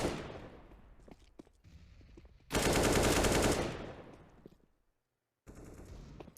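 Automatic rifle fire in a CS:GO match on the Cache map, loud close bursts with a long sustained spray in the middle, then a short pause and another burst at the end.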